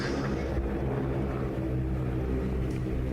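North American T-6 Texan trainer with an R1340 radial engine at power, its propeller tips going supersonic near 2,400 rpm: a loud, steady, harsh droning roar with strong low engine harmonics, continuous throughout and close.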